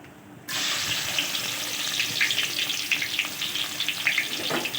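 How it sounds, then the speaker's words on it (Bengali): Chopped onion hits hot oil in a pan, and after a brief quiet moment a sudden, loud, steady sizzle takes over and continues unbroken with small crackling pops throughout. "এবার আমি পেঁয়াজ কুচি দিয়ে দিব।"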